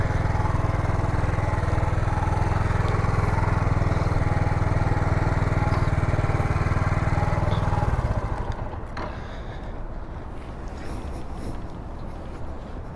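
A motorcycle engine idles loudly and steadily up close on a street in downtown Los Angeles, then cuts off after about eight seconds, leaving quieter city background noise.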